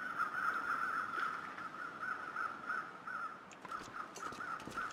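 Crows in The Long Dark survival game, heard near a bridge lined with abandoned vehicles, give a steady run of harsh caws over a faint wind bed, ending with a few scattered clicks.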